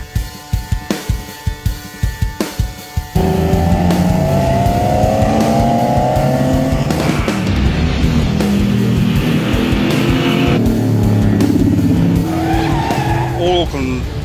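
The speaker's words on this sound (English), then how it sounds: "we're headed for Pukekohe Park Raceway for grassroots circuit racing with Auckland Car Club's Summer" Grassroots circuit racing at Pukekohe Park Raceway during the Auckland Car Club Summer Series: a few sharp clicks, then cars roar loudly past with rising engine revs and squealing tyres, voices talking over the din.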